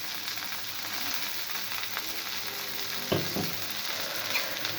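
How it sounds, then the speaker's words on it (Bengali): Chopped onions and five or six green chilies fry in a pan over medium heat, a steady hiss of sizzling oil with a couple of sharper scraping stirs near the end, fairly quiet and without any talking. "এগুলোকে এখন নেড়ে চেড়ে লাল লাল করে ভেজে নিব।"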